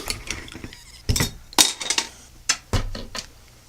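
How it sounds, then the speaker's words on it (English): Beer bottles being opened with a combined toenail clipper and bottle opener: several sharp metallic clinks and pops in quick, irregular succession, close and fairly loud, with no talking. "But first, let's crack the beers."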